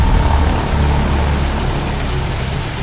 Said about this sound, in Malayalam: എപ്പോ തുടങ്ങിയ മഴയത്?